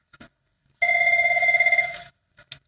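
An old-style telephone bell rings loudly in one sustained burst of rapid metallic trilling, with a few faint short knocks before and after in an otherwise quiet room.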